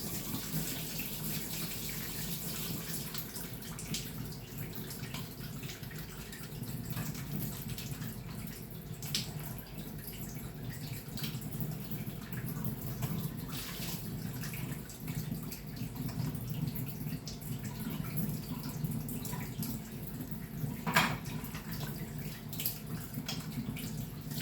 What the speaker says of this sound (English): just thoroughly wash my hands.